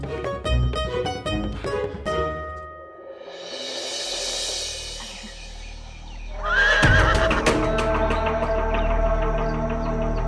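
A horse whinnies loudly in a long neigh, with hoof clip-clops and other rhythmic knocks around it in a dubbed animated Aladdin episode scene.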